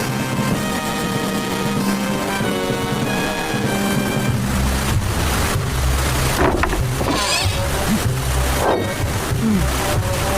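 Steady rain hisses continuously with a dense wash of noise, mixed with music-like tones and a low rumble throughout.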